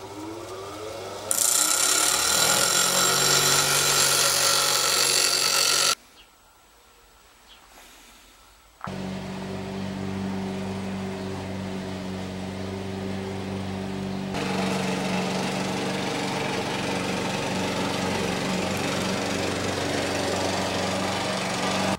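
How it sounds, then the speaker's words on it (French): A grinder reshapes a putty knife into a round-edged spatula in a workshop, a loud steady whining roar with a brief drop to near quiet midway before the grinding drone resumes and carries on. "Je vais meuler pour lui donner la forme qui me plaît bien."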